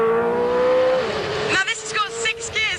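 A 1998 Formula 1 car on a track, its engine holding a high, strained note before dropping and shifting up through gears with sharp revving bursts, loud and close.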